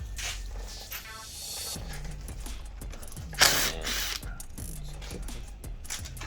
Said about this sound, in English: Now I'm taking the bolts loose now